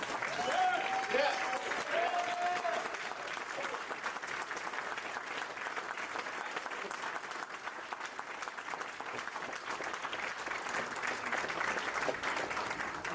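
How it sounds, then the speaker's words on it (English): An audience at a men's health night stands and applauds to welcome a speaker, a dense, steady wash of clapping that carries on for over ten seconds, with a brief whoop or voice near the start. "stand up and give this individual a welcome round of applause"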